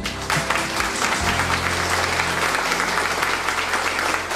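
Audience at a regional festival of popular peasant music applauds, steady full clapping from a crowd that carries on without pause, with a low musical hum beneath.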